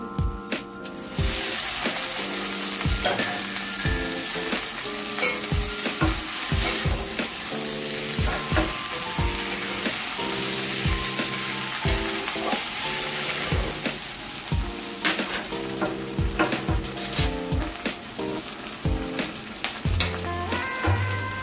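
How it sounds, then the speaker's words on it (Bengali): Fried okra is stirred into a sizzling masala curry, a continuous close frying crackle punctuated by regular spatula taps and scrapes against the pan, without speech. "ভাজা ভেন্ডিটা দিয়ে দেবো।"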